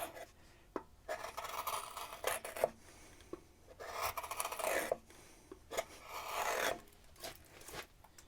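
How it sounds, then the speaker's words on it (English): A large carving gouge is pushed by hand through wood, giving soft, rasping cuts in repeated strokes with brief pauses and light knocks between them. The sound is close and quiet. "I'm hand pushing a gouge this big through this wood"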